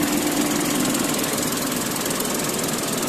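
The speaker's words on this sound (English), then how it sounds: "Now I am checking the engine with the engine running and with the air conditioner on." A 2021 Tata Nexon XE petrol engine idles with the air conditioner on, making a steady, close mechanical hum with a fine rattling texture and no talk over it.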